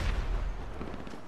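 Explosions in the GTA V video game sound as a dull muffled boom followed by rumbling, crackling low-end noise that fades out, with no speech.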